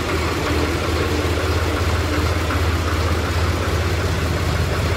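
An HMT 3511 tractor engine idles with a steady low, throbbing diesel rumble and a slight knocking pulse, close and loud with no talk.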